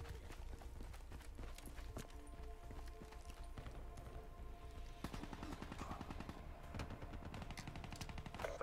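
Sustained rapid minigun fire in a Call of Duty: Black Ops 3 team deathmatch, a dense rattling burst running through most of the clip amid other gunfire and game noise, with no talk.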